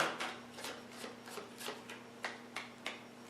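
Tarot cards are shuffled close up in a series of quick, rhythmic riffles with brief pauses between bursts.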